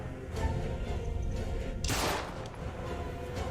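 Gunfire in the video game The Dark Pictures: Little Hope: a single loud burst cracks out midway, rising over a low, rumbling background.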